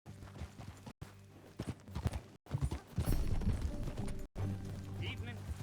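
Horse hooves clip-clop in a rhythmic run of close, crisp steps in the Red Dead Redemption 2 video game, broken by short silent cuts, with speaking voices and ambient game sound layered over them.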